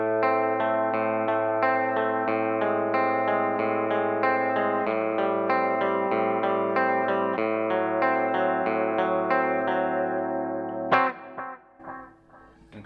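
An electric guitar played through a Marshall Origin 50 amp head with delay rings out in a steady run of picked notes. It then stops, leaving echoing delay trails that fade over the last seconds.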